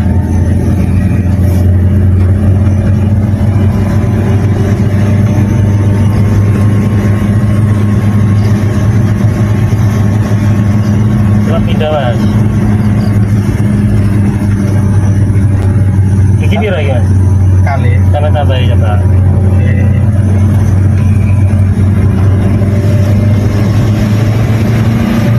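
A Daihatsu Gran Max EFI engine running on gas fuel during a test, a loud steady low drone that holds through the clip, with people talking over it.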